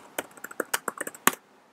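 A computer keyboard is typed on in a quick burst of about a dozen crisp, close key clicks that ends in one louder final tap, with no voices.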